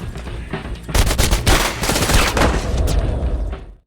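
Gunfire from a film shootout crackles in loud, rapid bursts of overlapping shots, dense and continuous for a few seconds before cutting off.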